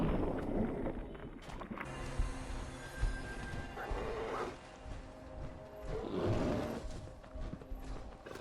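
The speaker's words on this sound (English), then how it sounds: "took down a giant mutated bear on the way to another clue" A giant mutated bear in the Fallout 4 video game lets out two rough, growling roars a couple of seconds apart over a low rumbling game soundscape, with no talking.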